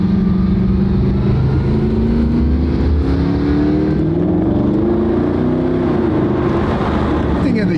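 A high-performance supercar downshifts through a very tight, low-speed roundabout, its loud engine revving up and down in close, continuous bursts with a person talking over it.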